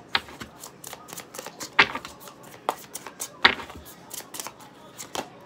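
Tarot cards are gathered and shuffled by hand in a quick, uneven patter of crisp slaps and riffles. The sound is close and stays moderate, with short pauses between the bursts.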